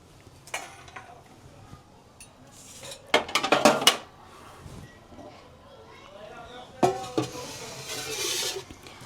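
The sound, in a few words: cooked dhokla being transferred onto a plate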